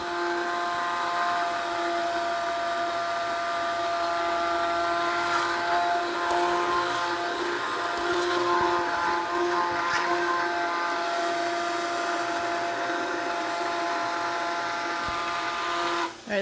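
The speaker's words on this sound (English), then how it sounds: "Get my stick and puree it some more." An immersion stick blender purees soup with a steady, loud, high-pitched motor whine that holds nearly unchanged, with faint thuds against the pot, then cuts off abruptly at the end.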